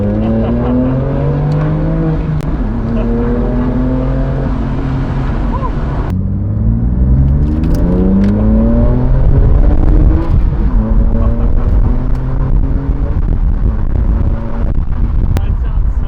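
Modified loud exhaust on a BMW M2 Competition revving repeatedly, rising and falling engine pitch with a sharp step in intensity midway, close and loud while people talk over it.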